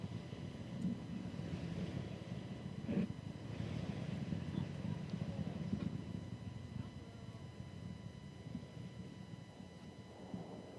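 Atlas V rocket with an RD-180 engine and solid rocket boosters in flight, a steady broad low roar heard from afar, constant and unbroken throughout.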